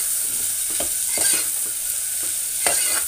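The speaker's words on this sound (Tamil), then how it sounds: "நல்லா வெங்காயம் நல்லா வதக்கட்டும்." Thinly sliced onions sauté in a pan, a constant close hiss of frying overlaid by repeated scraping strokes of a spoon as they are stirred, without any speech.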